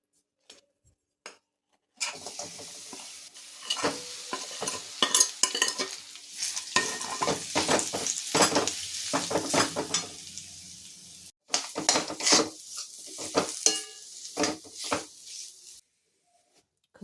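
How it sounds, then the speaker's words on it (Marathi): Dates roast in leftover ghee in a pan while a utensil stirs them, producing close, bursty scraping and clinking over a soft sizzle. The sound starts and stops in stretches between brief silences. "याच तुपामध्ये आपल्याला आता खजूर पण भाजून घ्यायची आहे"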